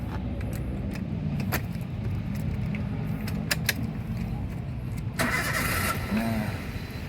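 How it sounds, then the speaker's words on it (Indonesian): A 2012 Daihatsu Xenia 1.3 R Family manual with about 124,000 km: keys jingle, the starter cranks briefly and the engine catches, settling into a quiet idle, heard close up. "coba kita nyalakan dulu mesin mobil."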